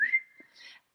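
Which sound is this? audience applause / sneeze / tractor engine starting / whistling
whistling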